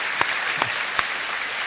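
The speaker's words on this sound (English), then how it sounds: "Can I get a big round of applause for all the educators in the audience?" A courtroom audience claps for educators at a Michigan Supreme Court session, sustained dense applause with a few sharp individual claps standing out.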